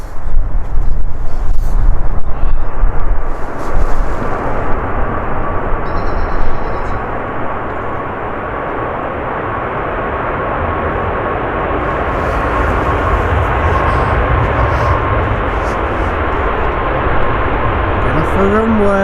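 Airliner accelerating down the runway on its take-off roll at Manchester Airport, a steady engine roar with a sustained whine building across the clip, loudest early on, while people talk nearby over it.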